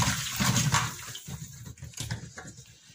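Water pours off preserved lemons through a colander into a basin, a close, splashing gush that swells then trickles and patters unevenly, with no voices.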